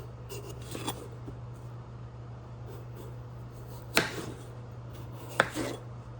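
A knife cuts through kabocha squash softened by about ten minutes in a 400-degree oven, giving two short, crisp crunches against a quiet steady hum.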